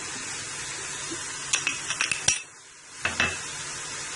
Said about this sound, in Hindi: ये देखिए चिकन बिल्कुल वाइट हो चुका है, फ्राई हो चुका है। अब हम इसमें अपनी शिमला मिर्च डाल देते हैं।